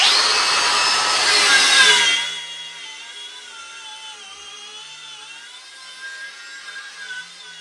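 A Milwaukee M18 grinder with a cup disc scours rust off 3x4 rectangular steel tubing: about two seconds of loud, harsh grinding, then the motor's high whine winds down as it spins to a stop.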